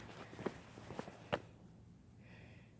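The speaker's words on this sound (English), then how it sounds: "Oh, can you hear the crickets?" Crickets chirp outdoors at night, a faint steady pulsing trill that runs throughout, with a few soft footstep-like thumps in the first half.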